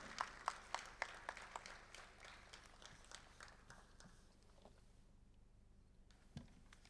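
Audience clapping at a Republic Day kavi sammelan and mushaira poetry event in Dubai, heard as scattered, fairly faint claps with a few sharper hand strikes that gradually thin out and fade.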